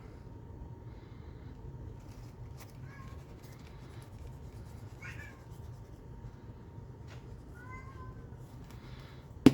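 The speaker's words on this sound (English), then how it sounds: "That poor cat, he's just moaning." Faint, distant meows and moaning cries from a cat, heard as a few drawn-out wavering calls over a steady low room hum.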